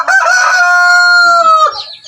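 A fighting-breed rooster gives one loud, close crow, a sustained harmonic call lasting about a second and a half that ends with a short trailing cluck.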